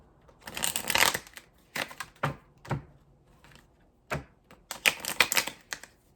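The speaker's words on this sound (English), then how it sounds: "why can't I shuffle my cards?" Bursts of cards being shuffled, quick riffling rattles in several separate bursts with short pauses between, close up.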